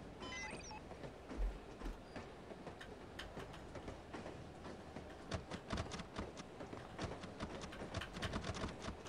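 Moving train interior in the game No One Lives Forever: a steady low rumble with rhythmic clicking and clacking of wheels over track joints, faint and continuous throughout, no voices.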